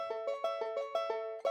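A dry, plucked banjo track playing a quick repeating pattern of bright notes with no reverb tail, close and clean.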